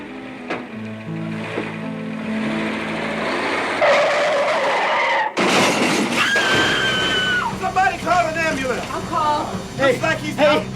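A car skids hard with a long screeching tire squeal, then an abrupt impact and a loud crash of breaking glass and metal, close and loud, with clattering debris afterward.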